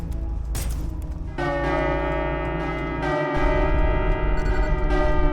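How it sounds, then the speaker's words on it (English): A large bell tolls in the ULTRAKILL game, a deep resonant strike followed by a second stronger strike, with long sustained ringing overtones building and layering over a low rumble. "We have rung the bell."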